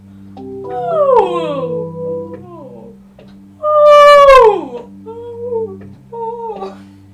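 A dog howls and whimpers in a series of long, sliding calls, with one loud, bright howl in the middle, heard over a low sustained musical backing.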